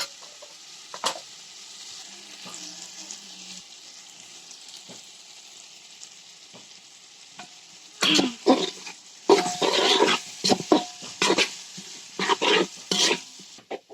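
Biryani masala and salt stirred in a pan ahead of adding yogurt, quiet at first, then loud scraping stir strokes and a steady sizzle in the second half, with no talking.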